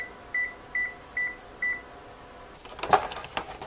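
An oven control panel gives four short, evenly spaced electronic beeps as the temperature is lowered to 325, followed by a clatter of kitchen noise.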